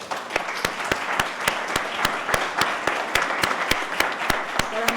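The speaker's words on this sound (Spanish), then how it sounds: "Un aplauso, por favor." Audience applause for the panelists at the close of a carbon forum panel session in Peru, a steady room of clapping with sharp individual claps standing out, sustained for several seconds.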